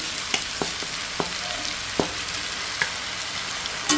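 Pasta tossed and stirred with capsicum and vegetables in a frying pan, giving a light sizzle with scattered scrapes and taps of a spoon against the pan, moderately close and without talk.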